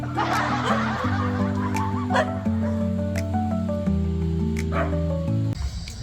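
Several dogs barking repeatedly around a cold mountain campsite at night, sharp yaps scattered over a steady tonal background drone, fairly close and mixed with faint voices.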